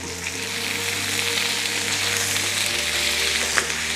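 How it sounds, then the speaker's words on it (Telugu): Sliced onions fry with salt in a pan for chicken liver fry, a loud, steady close sizzle with a low hum underneath and one faint utensil tap near the end, no voices. "ఇప్పుడు మన ఆనియన్ కూడా లైట్ బ్రౌన్ షేడ్ వచ్చేంత వరకు వేయిద్దాం"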